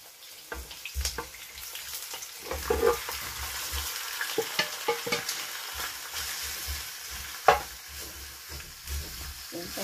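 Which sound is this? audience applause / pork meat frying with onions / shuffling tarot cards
pork meat frying with onions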